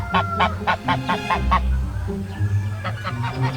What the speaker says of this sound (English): the gander came along, came chasing